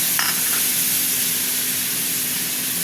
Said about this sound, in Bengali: এবার দিয়ে দিচ্ছি মশলা, আদা রসুন পেস্ট করা